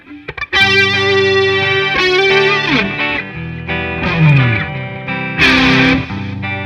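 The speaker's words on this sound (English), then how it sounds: "or I can play over top of it with distortion, volume boost, delay, chorus." Electric guitar run through distortion, volume boost, delay and chorus, sustained chords and bending lead notes ringing out loud and close with long echoing tails, no voices.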